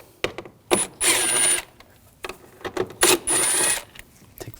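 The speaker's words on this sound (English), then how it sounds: "We're going to take these two bolts out," A ratchet driving a T25 socket backs out bolts on the cooling fan assembly of a 2006-2009 Audi 4.2L V8. Two close, loud bursts of rapid clicking, with scattered single clicks and taps between them.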